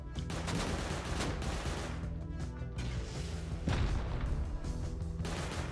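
Gunfire in the Rust console game: loud, dense bursts of rapid automatic shots and heavy impacts, close by, with short gaps between volleys and no talking.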